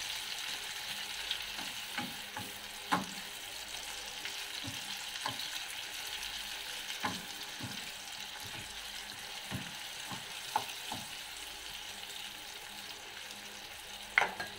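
Three chopped tomatoes sautéing in a pan for mung bean stew, a steady sizzle with intermittent clinks and scrapes of stirring throughout, no talking.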